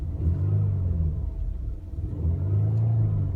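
The engine of a 2016 Ford Explorer Platinum revs up toward a rev limiter around 4,000 RPM. A low, steady rumble swells twice, heard close up from inside the vehicle.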